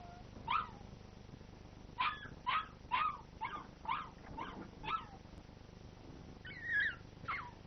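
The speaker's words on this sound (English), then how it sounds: "this same noise made here by a wolf cub howling for its mother" A wolf cub calls out for its mother with a string of high, thin yelping cries. The short whimpering notes repeat in a loose rhythm, faint and somewhat distant, and end in a final pair of wavering calls.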